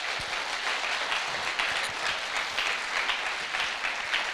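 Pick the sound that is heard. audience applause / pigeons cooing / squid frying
audience applause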